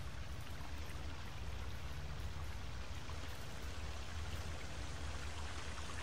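Flowing water in the video game The Forest, a faint, steady rushing and pattering wash like a stream or rain, continuous and even with no voices.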